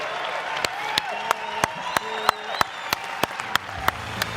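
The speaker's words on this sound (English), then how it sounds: "can we please give them a round of applause and tell them how much we appreciate their efforts?" An audience at an aromatherapy talk with medical experts applauds, loud regular claps ringing out against a background of overlapping voices and murmur.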